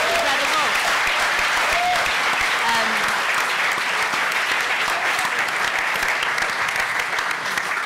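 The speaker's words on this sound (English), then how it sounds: "give a big round of applause to the World Transform volunteers who made this happen" Audience at a political talk event applauding for volunteers, a dense, steady wash of clapping from a large crowd lasting throughout at full loudness.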